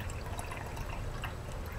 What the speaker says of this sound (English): Then, we're going to get some vinegar, and pour about the same amount,